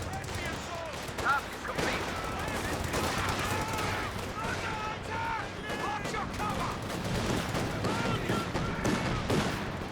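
MG42 machine gun firing in Company of Heroes 2 during a 2v2 match, bursts of gunfire mixed into a busy battle soundscape, heard beneath continuous commentator speech.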